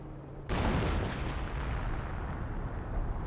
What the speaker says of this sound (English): Barrage running on in.